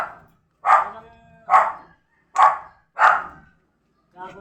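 A dog barks five times in a moderately loud, close series of sharp single barks spaced roughly evenly, with brief silence between them and no talk over them.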